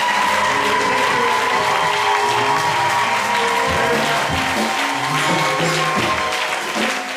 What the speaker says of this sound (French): Est-ce qu'on peut applaudir Maman Daguerre?